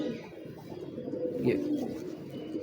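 Lakha and Sialkoti pigeons coo with soft, low throaty calls close by, a steady murmuring burble that rises slightly midway against faint background noise.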